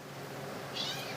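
Cats meow indoors in a kitchen while food is being prepared, a brief close cry over steady background noise.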